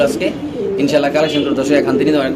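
Satin pigeons coo in low, rolling bursts at close range, with a voice talking over them almost throughout.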